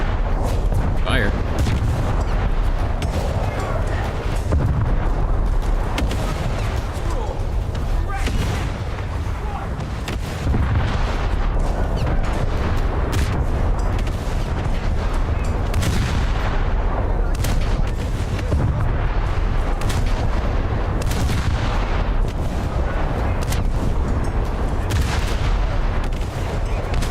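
Naval guns firing during a War Thunder naval battle, a string of loud deep booms and blasts repeating through the whole stretch, with a voice talking over the gunfire.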